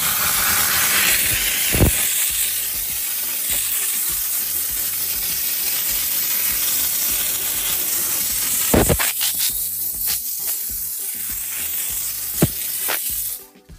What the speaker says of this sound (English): We sprayed the Mother's first, then we hit it with the steam.